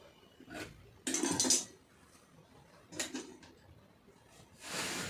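Scissors cut blouse fabric during tailoring, heard as a few short, fairly faint bursts of crisp snipping and cloth rustle separated by quiet pauses.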